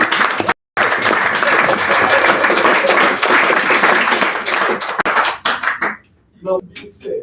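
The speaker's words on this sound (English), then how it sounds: "So let's give it one round of applause." An audience at a political party merger announcement applauds loudly and continuously, a dense wall of clapping that breaks off near the end as a voice starts speaking.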